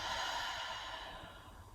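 A single long, deep exhale during yoga breathing flows out as a soft, close rush of air that slowly fades toward the end.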